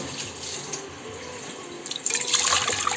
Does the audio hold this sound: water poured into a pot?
yes